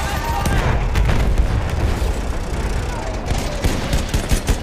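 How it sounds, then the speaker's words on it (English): Battlefield 1 Conquest battle with machine gun fire rattling in dense, continuous bursts amid booms and a constant wall of battle noise, with voices calling out over it. "Enemy machine gun over there"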